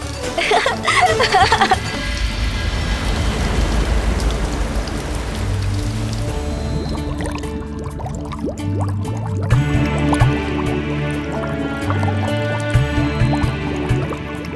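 A precious pearl dropped into water for Ganesh, Parvati and the sea god, heard as splashing, dripping liquid over a continuous watery wash, with swelling tonal music throughout.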